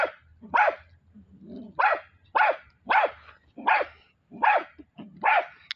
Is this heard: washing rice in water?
no